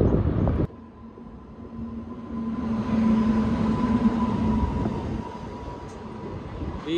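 Small passenger train of ten coaches hauled by a WAP-7 electric locomotive, a steady rumbling run heard from onboard with a faint whining hum, no talk.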